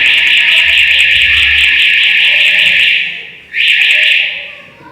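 A loud, steady electronic alarm rings during a church sermon. It drones continuously, cuts out briefly, then starts again, drowning out the room.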